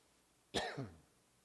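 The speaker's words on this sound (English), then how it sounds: "Still got a cough after that cold I had." A single sharp cough rings out once in an otherwise quiet meeting room, from someone with a lingering cold, fading quickly.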